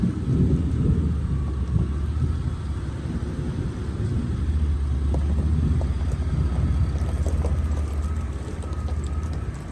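Thunder rumbles from a lightning storm, a continuous low rolling roar that holds steady and fairly loud throughout, with faint crackling on top.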